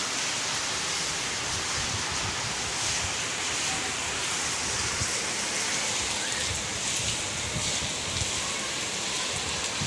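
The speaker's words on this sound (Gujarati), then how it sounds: "પવન સાથે વરસાદ ચાલુ થઈ ગયો છે સખત વરસાદ આવે છે સખત" Steady, heavy rain pours down with strong wind driving it, a continuous dense hiss with a broad roaring wash, lasting the whole time.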